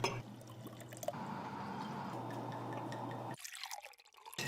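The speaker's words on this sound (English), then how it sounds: "The sound of a bourbon being poured." Bourbon pours into a glass in a short, close liquid trickle that runs steadily and then stops abruptly.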